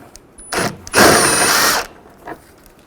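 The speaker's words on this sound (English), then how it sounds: "Now use a 10mm socket and we'll take this bolt out on the side." A ratchet with a 10mm socket removes a headlight bolt on a 2004-08 Infiniti G35: a short burst of close, rapid clicking, then a longer, louder run of steady ratcheting that stops abruptly, with one faint click afterward.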